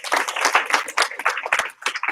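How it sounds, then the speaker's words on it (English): A room of people gives a round of applause at a martial arts class, honoring a student testing for his certified third-degree rank; dense, steady clapping fills the whole stretch at close range. "Give him a round of applause"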